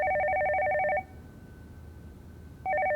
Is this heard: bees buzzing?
no